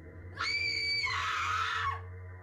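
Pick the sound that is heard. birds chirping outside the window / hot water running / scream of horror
scream of horror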